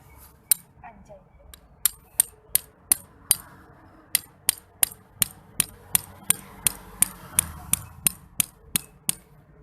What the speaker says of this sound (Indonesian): Untuk menancapkan patokan ini pakai palu ya